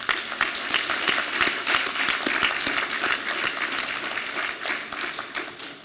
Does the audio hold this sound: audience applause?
yes